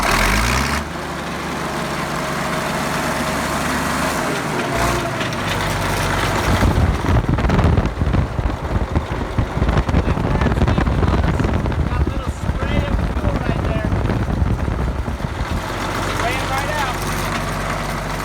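An old Caterpillar bulldozer's diesel engine runs steadily and loudly at close range with a deep low rumble, and people talk over it.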